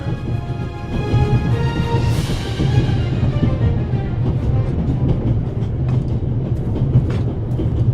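A moving train in the video game The Raven Remastered rumbles steadily and loudly throughout, a continuous rolling drone with faint rhythmic clatter of the rails and no talking.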